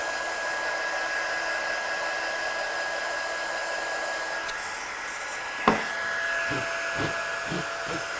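A heat gun blows steadily while melting embossing powder on a craft project, a loud continuous whirring hiss throughout, with a short knock partway and the motor pitch shifting afterward.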